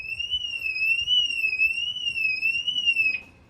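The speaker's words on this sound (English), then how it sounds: "This will fire off the alarm." A Mercedes S63's alarm, triggered by a shock sensor, wails nearby with a steady warbling electronic tone rising and falling, then cuts off abruptly near the end.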